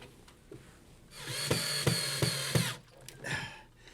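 A power drill drives a bracket screw through a cabinet top into a wall stud indoors, one close whirring run of about a second and a half with repeated clicking pulses, then a short second spin.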